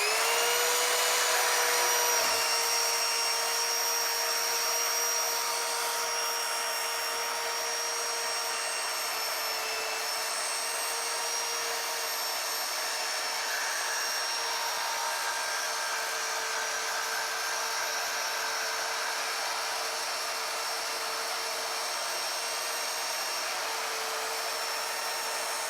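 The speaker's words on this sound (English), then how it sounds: "I'm using the WEN bandsaw to cut this," WEN portable band saw cutting square steel tubing, a steady high-pitched metallic whine and grind that holds loud and constant for the whole stretch after a brief start.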